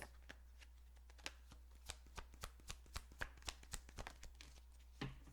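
A deck of cards being shuffled, quiet rapid riffling flicks and taps in short bursts, close and soft over a low steady hum.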